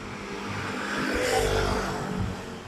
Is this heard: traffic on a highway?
yes